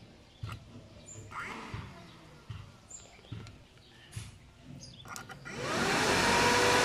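A few clicks and taps of wiring come first, then an 8-inch 12-volt auxiliary car aircon fan starts up and runs with a strong, close, steady whooshing roar.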